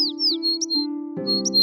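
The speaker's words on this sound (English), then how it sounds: "she would talk to a snow-white pigeon" A cartoon-style bird call for a snow-white pigeon, short bright chirps and warbles over a sustained tonal hum, loud and close, with no speech.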